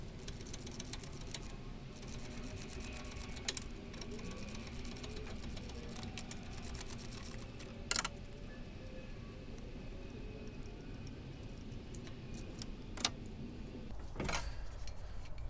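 A 19mm tension pulley is worked off a Foxbody engine with a few sharp metallic clicks and clanks against a steady rain-like hiss, then a louder knock near the end, close up with no talking.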